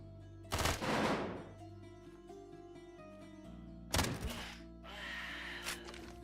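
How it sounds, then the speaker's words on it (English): Two loud bursts of gunfire in the video game Quasimorph, each a rapid crackling volley followed by a ringing tail, separated by a stretch of quieter game ambience with electronic tones. "It's hard because I feel like the gun sounds are loud."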